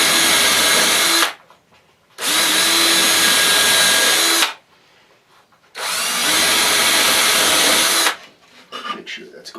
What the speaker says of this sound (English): I've got a specific drill bit size, and I'm going to drill 10 of those holes